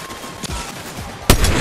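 A pistol fires in the video game Fortnite as a few sharp, close shots crack out, one of them louder near the end.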